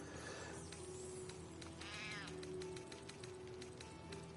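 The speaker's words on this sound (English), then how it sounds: "I hear a cat." A cat meows once, faint and brief, amid quiet ambient game sounds in Baldur's Gate 3, with no talking.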